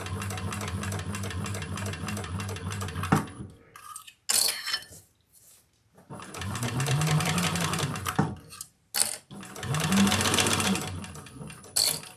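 A sewing machine stitches a crossbody bag in three loud, close bursts of rapid mechanical whirring, separated by short pauses with faint handling clicks.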